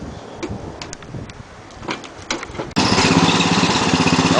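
Small engine of a 12-volt welder generator mounted on a tractor starts abruptly partway through, then idles with a steady loud drone after a stretch of quieter clatter and knocks.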